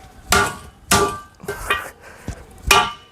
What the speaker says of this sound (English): This is where I will obviously smack it with a hammer real hard.